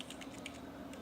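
A command being typed on a computer keyboard, a quick run of soft, close key taps in a quiet room, with no voice.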